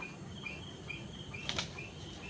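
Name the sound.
bird flapping its wings, unable to fly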